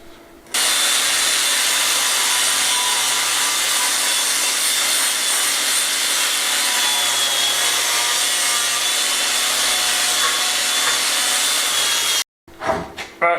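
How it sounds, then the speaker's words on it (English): An 80-grit flap disc on an angle grinder polishing metal during a Spanish finca restoration, giving a loud, steady abrasive whine with no break for about twelve seconds before it cuts off and a few clunks follow. "Now I've swapped it for a flat disc, which is just I think it's an 80 grit. I'm just going to polish it all up"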